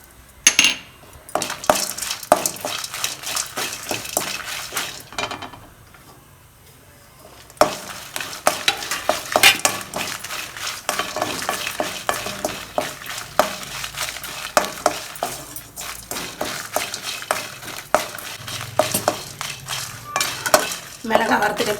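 Pirandai, lentils, dried chillies and a lump of asafoetida dry roasting in a pan for pirandai podi, with steady dry rattling and scraping of a stirring spoon throughout, a brief lull, then renewed clattering stirs.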